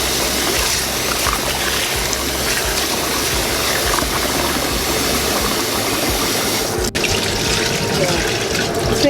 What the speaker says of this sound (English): We're just going to wash with cold water and put it to boil.